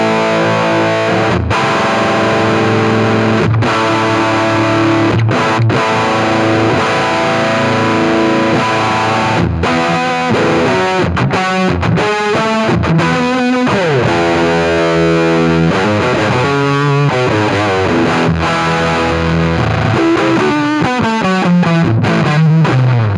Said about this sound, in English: I'm trying to emulate two guitar parts that are almost the same, you know, playing together, but not an obvious chorus sound.